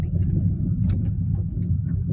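A car drives through city traffic with a constant low engine and road rumble, while faint clicks and ticks scatter over the drone.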